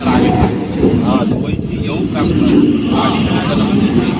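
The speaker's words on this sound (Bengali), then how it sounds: "আমাদের ট্রেন এখন এসে পৌঁছেছে কাকিনাড়া স্টেশনে" Local train on the Kalyani to Budge Budge line rolling into Kakinara station, a loud continuous rumble with rhythmic rail clatter and carriage noise, with voices audible inside the coach.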